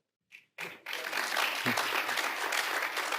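Sustained applause from a crowd, dense and steady clapping after a brief thump and short sound at the start.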